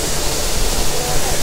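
The Namanda waterfall in Loja, Ecuador roars as a loud, steady broadband rush of falling water that fills the whole moment without pause.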